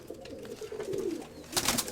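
Pigeons coo steadily in a dovecote where parent birds sit with their squabs, the low rolling calls continuous and close, rising to a louder burst near the end.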